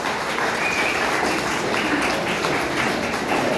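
A college audience at a beautician and makeup course event in Bangalore applauds, giving a steady, dense clapping that stays level for the whole stretch with no voices on top.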